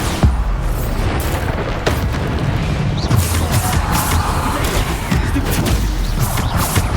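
Repeated Bombarda spell explosions in Hogwarts Legacy, booming blasts and crashing impacts dense throughout amid constant battle noise, loud and close with no pauses.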